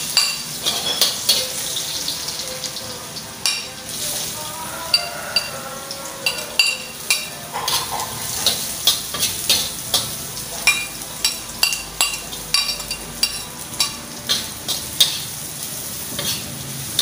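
Garlic sizzles in a pan while cooking jackfruit with anchovies, a steady close frying hiss broken by repeated stirring scrapes and clinks of a utensil against the pan, with no talking.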